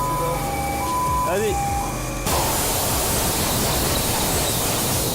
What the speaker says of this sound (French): Ça va cracher de l'air, c'est normal, ça fait beaucoup de bruit